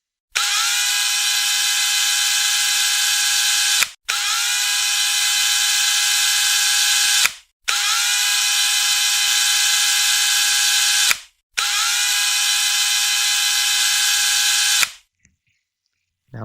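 Power drill boring holes into an air conditioner cover, four sustained high-pitched whining bursts of about three to four seconds each, separated by brief pauses, loud and close with no talking.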